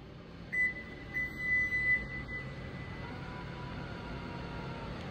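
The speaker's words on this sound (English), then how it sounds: "we can open and close the tailgate of the vehicle" A 2023 Lexus RX350h Luxury power tailgate opens and closes, with a short series of clear electronic beeps followed by a faint, steady motor hum. No one speaks.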